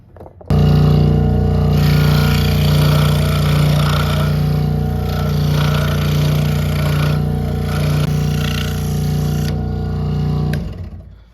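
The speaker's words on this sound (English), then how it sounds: "Gonna cut it out on my scroll saw now." A scroll saw cutting out a small part for a handmade spinnerbait fishing lure, running as a steady loud motor hum with a buzzing blade that stays continuous for about ten seconds, then stops.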